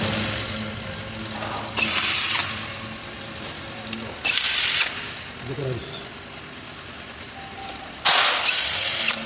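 A power tool rattles on a transmission bolt of a Toyota Fortuner or Innova during an automatic transmission fluid change. It comes in three short, loud bursts, with quieter workshop noise in between.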